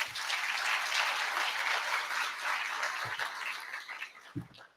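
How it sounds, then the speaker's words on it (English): Steady applause from an audience at a school district event honoring school employees, fairly distant and sustained for about three seconds before thinning out and fading. "Please give them another round of applause."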